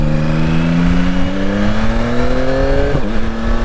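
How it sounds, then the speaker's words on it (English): A 2022 Yamaha Tracer 9 GT motorcycle engine pulls steadily through the gears while riding, its pitch rising in long sweeps with a brief dip at a shift, loud and continuous with wind and road noise. "I'm really enjoying this bike."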